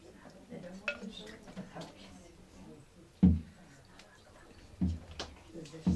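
Plates and cutlery clink now and then, a few sharp knocks of dishes set down amid quiet kitchen movement in a Bulgarian village kitchen serving kachamak, with scattered talk in the background.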